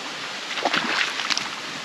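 A dog wading across a shallow creek, with steady flowing water and a few brief splashes mid-clip, close and moderately loud, no voices.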